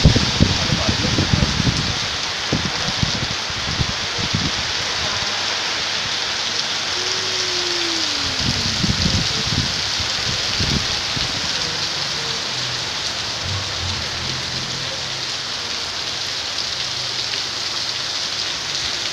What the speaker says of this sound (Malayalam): മഴ കൊടുങ്കാറ്റടിക്കുന്ന മഴയത്ത് പെയ്യുന്ന കാറ്റുകൾ